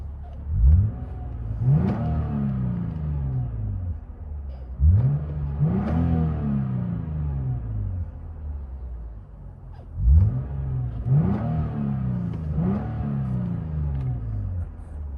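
Lexus IS 250 with a 2.5L engine and its exhaust cutout open, revving in four sharp bursts that each climb and fall back to a deep idle rumble, loud and close with no talking.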